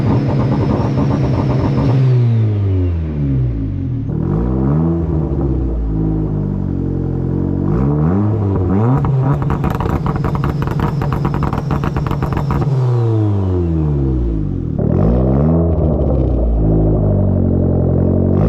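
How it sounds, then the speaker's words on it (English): Car engine running an aggressive rolling antilag setup with the turbo spooling hard, loud and close, with repeated revving sweeps rising and falling and crackling bursts between pulls. "I can definitely hear the turbo trying to spool a lot harder now though."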